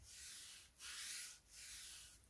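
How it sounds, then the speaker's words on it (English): A cloth rubs oil onto a wooden karlakattai club in slow back-and-forth strokes, three soft close swishes with short pauses between them, quiet and alone. "take your cloth, dip in the oil and just rub it, rub it on the karlakattai."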